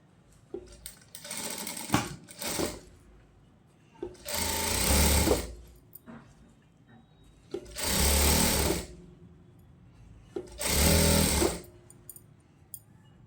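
Sewing machine stitching a child's palazzo in four loud bursts of rapid whirring, each a second or two long, separated by quiet pauses with small handling clicks.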